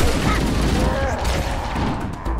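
A grenade blast in the video game Halo: Combat Evolved, a loud rumbling boom buried in continuous battle noise and gunfire, with a person talking over it.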